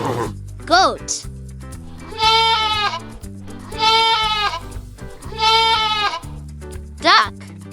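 Three loud wavering goat bleats come one after another over light background music, with brief speech at the start and end.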